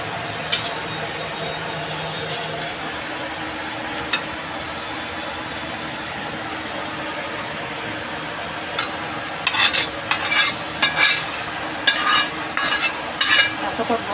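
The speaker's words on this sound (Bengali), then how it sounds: "আর রাঁধুনি দিয়ে ফোড়ন দেবো।" Radhuni seeds and garlic tempered in hot oil for a thankuni leaf jhol give a steady, close frying sizzle, with a cluster of sharp utensil clinks and scrapes toward the end.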